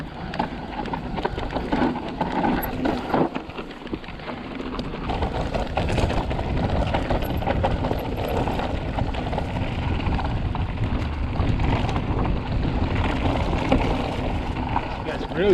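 Mountain bike rattling down a steep, rocky trail over braking bumps in a canyon rock garden, a steady loud rumble of tyres, chain and wind noise with repeated jolts throughout.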